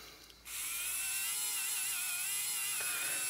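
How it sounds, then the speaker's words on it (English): An electric eraser runs flat against a sanding block, its steady high-pitched motor whine starting abruptly after a brief quiet moment and holding loud and close to the end, with no talk. "sharpening a electric eraser. So I put it against here flat."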